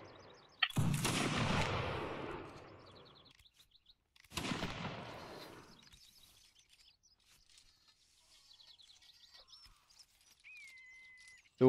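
Musket volleys fired by a line of soldiers at a Waterloo anniversary reenactment, two loud outdoor bursts a few seconds apart, each booming and fading into quiet with birds chirping between.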